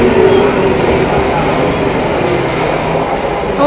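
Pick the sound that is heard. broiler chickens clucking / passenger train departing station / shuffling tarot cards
passenger train departing station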